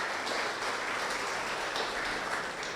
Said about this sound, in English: Could we give our mayor another arousing hand of applause,